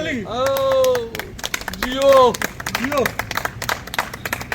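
A group claps at a logo and jersey unveiling ceremony for a riders' club, with scattered, irregular claps mixed with people talking and calling out.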